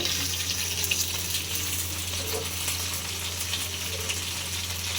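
Fish frying in a pan on a home stove, a dense, even sizzle that stays loud and close for the whole stretch, with no voices.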